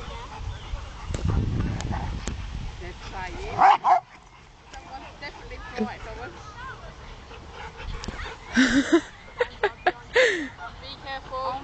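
Rottweilers bark, yip and whimper in scattered bursts, with a louder cluster of sharp barks near the end, mixed with people talking nearby.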